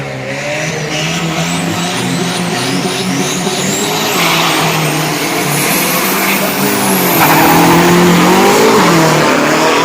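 A drag-racing pickup truck, a steel-bodied turbo build at a Super Drag 2022 event, revs hard and loud at the start line, its engine note rising and surging continuously with some tire squeal.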